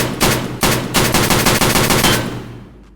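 A .308 KelTec RFB bullpup rifle fires a rapid burst of about a dozen loud, sharp shots in Escape from Tarkov, then the last report fades into a short echoing tail.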